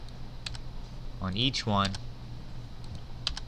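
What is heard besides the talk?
pressing delete key on computer keyboard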